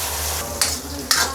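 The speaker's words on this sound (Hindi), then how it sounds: "अभी मैं इसमें टमाटर डाल दूँगी। टमाटर और हरी मिर्चें डाल दूँ।" Tomatoes and green chilies stir-fried in a pan of browned onions for Pakistani chicken jalfrezi, a steady close sizzle broken by two bright bursts as the food is stirred and turned.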